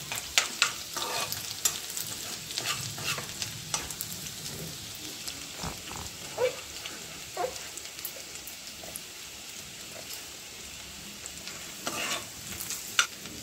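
Ingredients for chicken majestic frying in a pan, a steady crackling sizzle with irregular scrapes and clinks of a spatula stirring, fairly close and without talk.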